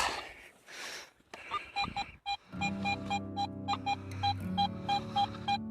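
A metal detector sounds off in a repeated series of short, regular electronic beeps at a steady pitch over a low hum, the tones pulsing close and clear after some brief handling noise.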